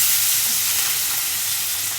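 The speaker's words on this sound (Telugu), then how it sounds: "ఇలా ఫ్రై అవుతుండగా కళ్యమాకు, కొంచెం కొత్తిమీర, దీన్ని మంచిగా కలుపుకోవాలి." Curry leaves and coriander sizzle steadily in a pan while being stirred for chole masala curry, a close, continuous frying hiss with faint scraping underneath and no voices.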